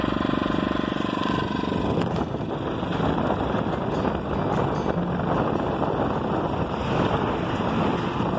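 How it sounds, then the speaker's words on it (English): A steady headwind roars and buffets across the microphone while riding a motorized bicycle on a rural farm road, a constant loud rush with no break throughout. "Got a little bit of a headwind right now."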